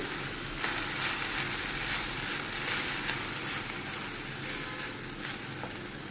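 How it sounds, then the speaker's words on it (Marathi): Paneer sautéed with mixed vegetables in a pan for Indian tacos gives a continuous, even sizzle with faint stirring scrapes, close and steady, no talking. "पनीर आपण जस्ट हलकं सॉटे करायचं आहे सर्व भाज्यांमध्ये"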